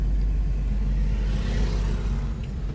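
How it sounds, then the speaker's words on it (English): Jammed road traffic with cars crawling close by makes a dense low rumble and steady engine drone, with faint whirring throughout and no voices. "Already the traffic jam, look. There is traffic."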